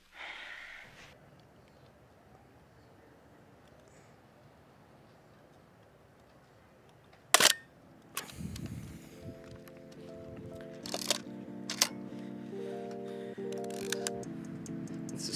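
A Mamiya RB67 medium-format film camera's shutter fires in several sharp, isolated clicks over quiet outdoor ambience, followed by a low steady hum in the background.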